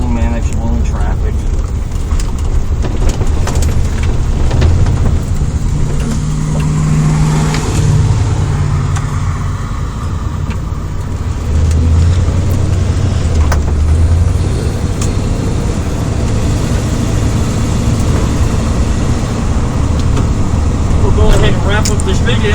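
Engine drone and road noise from a 1990 Dodge Ram 250 van driving on the road, steady and loud from inside the cab, with someone talking over it for most of the drive.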